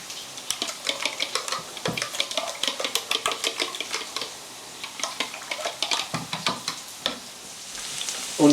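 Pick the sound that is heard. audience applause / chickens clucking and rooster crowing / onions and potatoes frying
onions and potatoes frying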